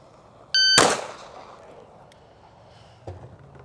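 A single sharp, loud pistol shot fired close by during grip drills, ringing out with a metallic clang and decaying echo, followed by a softer clack a couple of seconds later.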